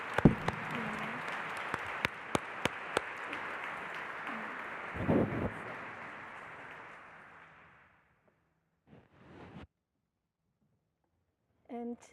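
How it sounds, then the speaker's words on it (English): An audience applauds panelists at a forum on children and sustainable development, steady dense clapping for several seconds that fades out, followed by near silence and a few faint stray sounds. "give a round of applause to everybody"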